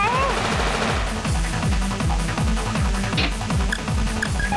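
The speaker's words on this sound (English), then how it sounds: "that's them randomly firing there" Enemy tanks fire in War of the Human Tanks, a rapid run of repeated gunshot bursts in a regular pulsing rhythm, loud and close over steady game audio.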